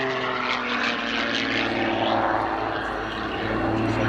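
Aerobatic propeller plane in a high-speed dive at an airshow, a loud continuous propeller and engine drone with a rising, shifting pitch, close and sustained.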